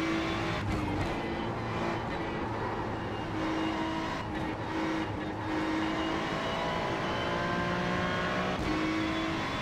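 Racing car engines roar around the Mugello circuit in the iRacing sim, a loud continuous drone with shifting engine pitch, tyre squeal and cars passing close by, with no talking.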